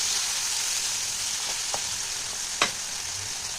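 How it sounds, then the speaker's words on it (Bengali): A paste of onion, ginger and garlic fries in a hot pan with a steady, hissing sizzle. A couple of brief spoon-scrape clicks from stirring break through near the end. "পেঁয়াজটা লাল করে।"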